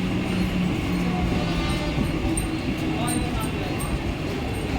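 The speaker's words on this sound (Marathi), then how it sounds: "प्लॅटफॉर्म क्रमांक 1 पर आई हुई लोकल 7:05 की बदलापूर जाने वाली ही लोकल है।" A Mumbai Central line local train stands at platform 1 of Diva Junction station at night, giving a loud, steady rumble and hum while a public-address announcement plays over it.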